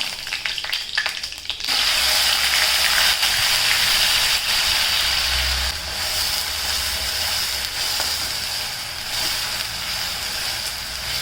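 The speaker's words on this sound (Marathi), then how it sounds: "तेल आपलं गरम झालं आहे त्याच्यात मोहरी कढीपत्ता" Mustard seeds and curry leaves hit hot oil, and after a brief rustle a loud, dense sizzle bursts out and holds steady close by, with faint spattering throughout.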